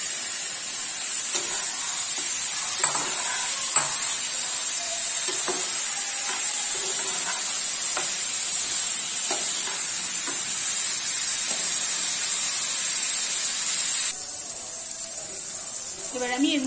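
Pointed gourd (potol) frying in a pan of well-cooked spice paste, a steady close sizzle with scattered stirring clicks and scrapes throughout, dropping slightly quieter near the end.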